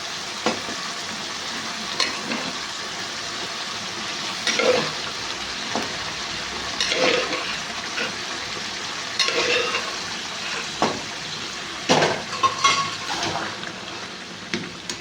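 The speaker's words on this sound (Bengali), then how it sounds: "কড়াইটাকে একটু নাড়াচাড়া করে নিয়ে এতে জল ঢেলে দেবো।" Boiled peas are stirred into a cooked spiced masala in a pan, with a steady soft sizzle and repeated scraping clinks of a spatula against the metal, close and continuous.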